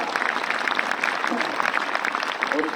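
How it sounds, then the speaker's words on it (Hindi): School medal ceremony audience applauding a student, a steady, dense wash of clapping throughout, with faint voices mixed in. "ये जिले के अंदर विनोद राज के लिए जोरदार तालियां"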